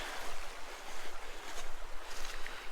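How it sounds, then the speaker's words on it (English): A strongly flowing Tasmanian rainforest creek, swollen after heavy rain, gives a constant rushing hiss of water, steady and moderately close, with no voices. "Have a look at the power of this creek."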